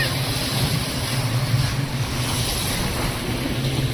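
A tourist boat out on the sea near the Andaman islands, heard as a steady wash of waves and wind noise with a low engine-like rumble running beneath, continuous and fairly loud throughout.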